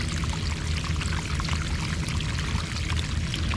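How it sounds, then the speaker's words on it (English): Water gushes steadily out of an open French drain pipe in the ground, a continuous, dense, rushing pour that stays even and fairly close throughout with no talking. "look how much water comes out of that ground from that French drain"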